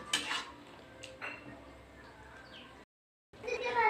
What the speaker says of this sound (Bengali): ভালো করে আমি এটাকে কষিয়ে নিচ্ছি